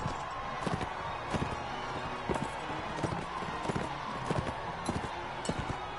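Horses gallop across a track in the Mount and Blade Warband video game, their hooves drumming a steady, rapid clip-clop rhythm that stays close and fairly loud throughout, with no talking over it.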